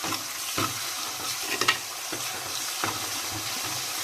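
Eggplant curry with ginger and garlic sizzles in a clay pot, with a spoon scraping and stirring in irregular strokes, close and continuous, with no talking.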